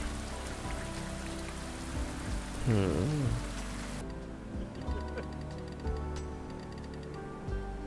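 Rain falling in the convenience-store game InKONBINI, a steady hiss of drops on a surface throughout, with a brief murmured voice and a short whirring chirp in the middle.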